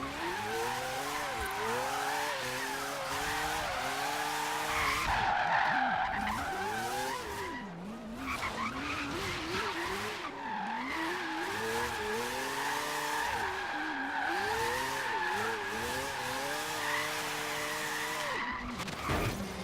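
Tyres shriek as Mad Mike's four-rotor Mazda RX-7 drifts, the squeal rising and falling in repeated sweeps over a buzzing rotary engine, loud and close throughout, with a brief dip in the middle and no talking.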